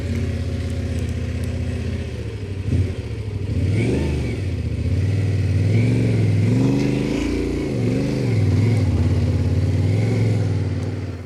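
Yamaha Ténéré 700 adventure motorcycle, loaded, climbing an offroad hill, its engine droning close and loud with repeated rising and falling revs as the throttle is worked, plus a brief clatter partway through.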